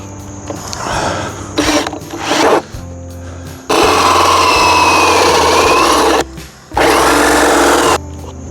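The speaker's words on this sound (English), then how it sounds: "start making our center hole" A Ryobi drill fitted with a hole saw bites into plywood in loud bursts of grinding, rasping cutting, with a brief pause before a long steady cut and one more burst, a whine running underneath.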